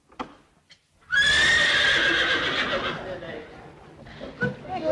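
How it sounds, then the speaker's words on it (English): A horse gives a loud, drawn-out whinny lasting a few seconds. Hoof clops and a brief voice come before it, and shuffling follows in an indoor scene from a 1939 period film. "Good gracious, the horse."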